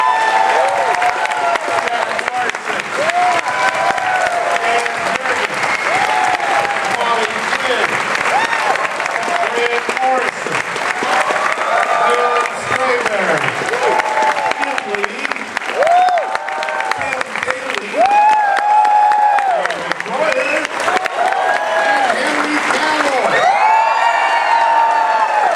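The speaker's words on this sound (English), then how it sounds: "I do want you to give a round of applause for Paul Levitz" Sustained audience applause with cheering and whoops fills a large convention hall during a Superman panel at San Diego Comic-Con 2013, loud and steady throughout with crowd noise layered in.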